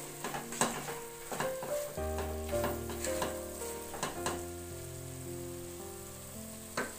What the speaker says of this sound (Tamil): இதை காய் வெந்துக்கிட்டு இருக்கட்டும்.